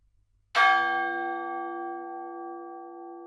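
A large bell rings out with a single strike after a short silence, a loud clear tone whose harmonics hum on and slowly fade without dying away, nothing else heard.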